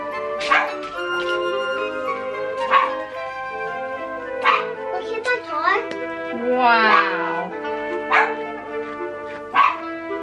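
A dog barks in short, high yips at steady intervals with a whimpering stretch in the middle, while a person briefly speaks nearby.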